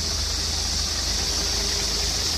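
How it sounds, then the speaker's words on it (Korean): The diesel engine of a 2020 Hyundai Porter 2 one-ton 4WD truck idles close by, with a steady rumble, a constant low throb and a broad hiss. There is no talking. "엔진 소음도 아주 좋고요"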